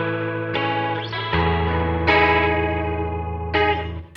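Guitar through the 70s chorus effect of an HX Stomp set to vibrato, sustained chords with a wobbling, pitch-shimmering modulation and a few fresh strums, played alone.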